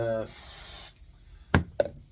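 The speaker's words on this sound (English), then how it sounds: "spray down my spline." A brief hissing burst of CA glue activator spray on a wooden box spline, lasting under a second, followed by two faint clicks, close by and fairly quiet.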